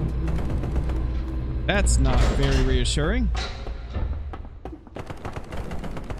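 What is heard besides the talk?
gunfire in a video game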